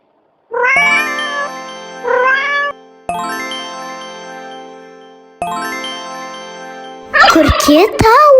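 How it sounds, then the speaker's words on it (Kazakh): Domestic turkey gobbling in long, loud, close warbling bursts, several calls in a row, ending with a sharper squawking cry. "Күрке тауық."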